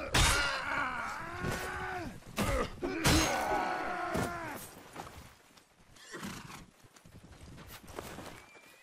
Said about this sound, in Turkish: At sesi çıkıyor.